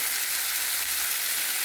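Ginger-garlic paste and spices fry in a pan, a steady bright hiss of sizzling oil held close and even throughout, with no talking.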